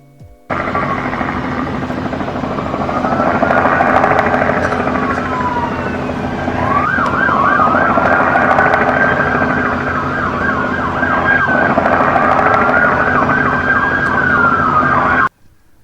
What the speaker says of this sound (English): you can still kind of hear the siren in the background there